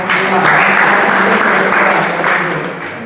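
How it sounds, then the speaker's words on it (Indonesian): A room of seminar participants breaks into steady, sustained clapping for the second discussion group, dense and fairly loud throughout before easing slightly at the end. "Ya, kita beri aplaus untuk kelompok 2."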